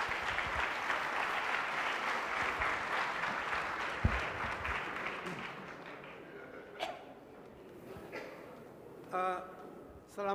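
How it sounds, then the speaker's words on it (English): An audience at a political party dialogue event applauds, a dense wash of clapping that fades over several seconds before a voice speaks and a few brief sounds follow. "Let's welcome him with a round of applause."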